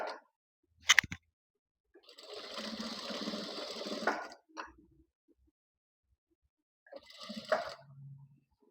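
A sewing machine stitches a boat neck blouse in two bursts, a long steady whir of about two seconds and a shorter run near the end, with brief clicks between, close and moderately loud.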